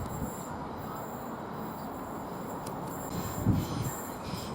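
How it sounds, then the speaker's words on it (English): A Southeastern train departs Rochester station, a steady low rumble of rolling stock and wheels running continuously at moderate distance, swelling slightly near the end, with no voices. "Now this Southeastern service 12:38 from Dover to London Victoria is now departing."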